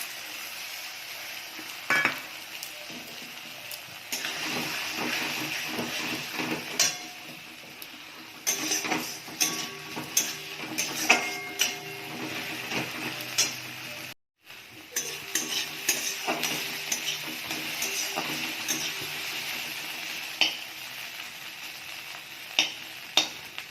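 Beaten egg scrambles in a pan with frying onion and tomato. A constant sizzle runs under frequent scraping and clinking of a spatula stirring against the pan, with one brief cut to silence midway.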